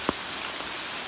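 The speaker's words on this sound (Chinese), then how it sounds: "下大雨了" Heavy rain falling in the mountains, a dense even hiss of drops with one sharp close drip near the start.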